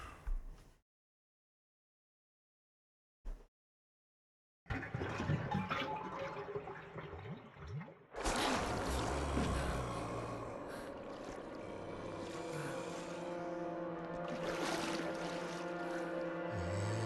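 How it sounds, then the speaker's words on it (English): Draining water in a bathroom in the game Resident Evil Remake: a steady, loud rushing and gurgling that starts after brief silence and swells midway, continuing to the end with no talk. "we gotta drain the water."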